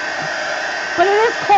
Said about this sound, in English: it takes a minute with the heat gun